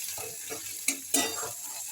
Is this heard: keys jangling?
no